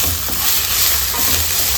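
Garlic, ginger and green chillies fry in a pan with a close, continuous sizzle and a soft scraping stir, with no voices over it.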